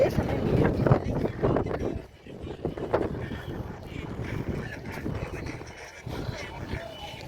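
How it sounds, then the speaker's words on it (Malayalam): Strong wind gusts across a misty hilltop at Ponmudi, heard as a steady, loud rumbling roar buffeting the microphone throughout, with faint voices mixed in underneath. "നല്ല കാറ്റുണ്ട് നല്ല കാറ്റുണ്ട്"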